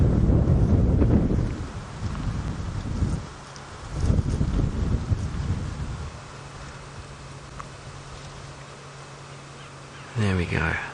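Wind buffets the open ground of a sunset safari drive at Nkuhuma, gusting hard in loud rumbling bursts with a low steady vehicle hum beneath, easing toward the end before a brief sharp burst.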